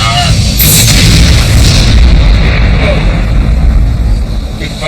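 A loud cannon blast booms against a sea cliff, a deep, rumbling impact with a rushing, reverberant tail that fills the whole span, close and powerful.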